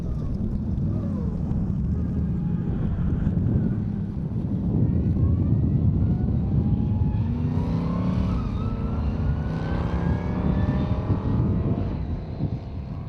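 A Land Rover Special rally car drives on gravel roads, its engine a continuous loud roar that rises and shifts in pitch through gear changes, with gravel noise throughout.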